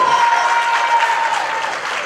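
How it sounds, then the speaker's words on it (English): A room of guests at a Mother's Day and International Women's Day charity auction breaks into steady, dense applause, loud and close, with a faint sustained tone running beneath the clapping throughout. "Give the young lady a round of applause,"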